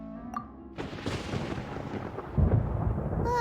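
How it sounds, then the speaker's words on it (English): Thunder in the video game Genshin Impact, a deep rolling rumble that builds and swells over several seconds and stays loud and close to the end. "Paimon hears thunder!"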